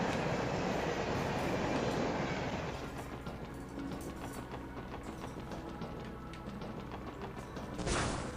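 A train in the video game Trails to Azure rumbles by with a heavy, continuous roar and rhythmic rattling of rail cars, strongest at first and easing slightly before a brief hiss at the end.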